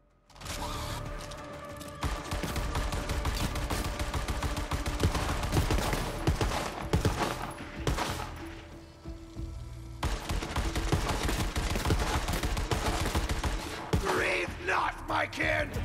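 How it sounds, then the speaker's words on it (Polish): Rapid bursts of shotgun fire in Borderlands 3, a dense run of loud sharp blasts stacked over game sound effects and mechanical clatter, with brief pauses between volleys. "ile ona tam strzał wystrzeliła od razu"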